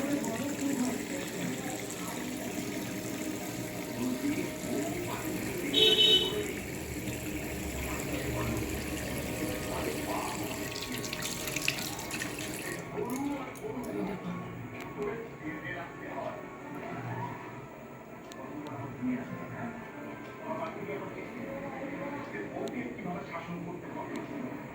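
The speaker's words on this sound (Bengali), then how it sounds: "এবার মুখটাকে আমি পরিষ্কার করে ধুয়ে নেবো। এমনি পরিষ্কার জল দিয়ে নেবো" Tap water runs and splashes as a face is rinsed at a sink, a steady wash of liquid with a brief brighter splash early on, while a person talks over it throughout.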